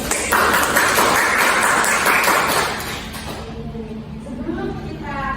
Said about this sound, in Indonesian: Beri tepuk tangan untuk Mbak Puji